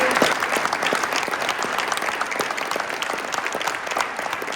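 Steady audience applause fills a cadet academy graduation ceremony for the class 2 graduates, a dense, continuous wash of many hands clapping close by with faint voices mixed in.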